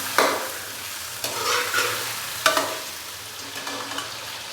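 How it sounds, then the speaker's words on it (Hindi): Chicken fries with ginger garlic paste in a pan for pulao. A steady close sizzle runs under several sharp scrapes and clinks as a spoon stirs the pieces at intervals. "चिकन को अभी हम भून लेंगे अदरक और लहसुन के पेस्ट के साथ"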